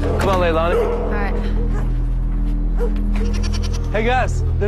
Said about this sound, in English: Hey guys, there's goats down here.